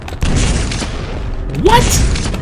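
A rocket launcher explosion in the shooter game Quake 3 Team Arena gives a loud, close boom that rolls on in a rumbling tail, with a brief rising whoosh near the end.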